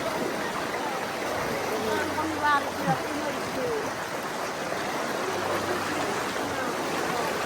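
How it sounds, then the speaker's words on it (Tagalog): A strong river current rushes steadily over slippery rocks, a dense, loud, continuous roar of water filling the scene up close, with faint tonal chirps briefly above it. "Malakas yung agos mga kababayan."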